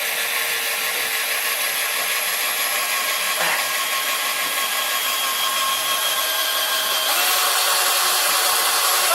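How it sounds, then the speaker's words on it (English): A power drill whirs steadily and loudly, grinding continuously as it drives a screw into drywall. "It's going to drill its own hole."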